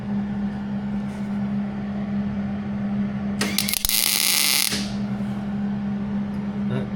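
Brief burst of tack welding on a nut while replacing the brake line on a 2006 Chevy Silverado, a loud crackling hiss lasting about a second over a steady electrical hum in a garage.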